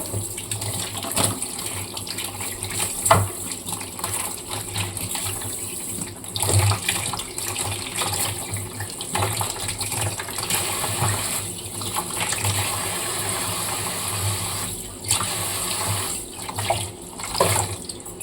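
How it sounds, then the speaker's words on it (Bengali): Running tap water pours steadily into a kitchen sink while fruit is washed beneath it, a continuous close gush with small splashing shifts and no talk. "ফলগুলোকে সবসময় ধুয়ে রাখাই উচিত, ভালো করে ধুয়ে রাখবো"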